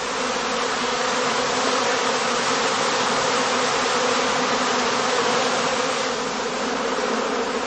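Honeybees swarming around heather skeps in a heathland apiary, a dense, continuous loud buzzing hum close by, with no voices.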